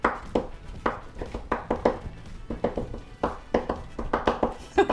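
Wonton filling ingredients for chicken and vegetable wontons chopped with a knife on a board, producing a fairly quick, rhythmic series of soft, close thuds and taps that continue steadily throughout.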